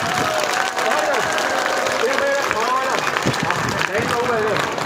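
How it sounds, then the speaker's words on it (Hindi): Loud, sustained applause from an audience at a Maha Shivratri program in Mira Bhayandar, dense clapping filling the space while voices carry over it. "जोर से ताली बजाओ"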